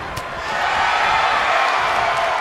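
Video game wrestling crowd in WWE2K19 roaring steadily during a match, a dense, loud wash of cheering that swells after a brief quieter start and holds for the rest of the stretch.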